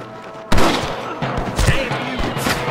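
Gunfire against snipers in the Red Dead Redemption video game: a sharp loud report opens, followed by several more shots and thuds scattered irregularly through a busy battle mix.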